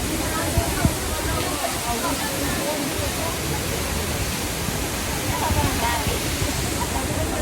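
Water from a spring in Sagada rushes steadily and loudly, with broad continuous noise throughout and no clear gaps.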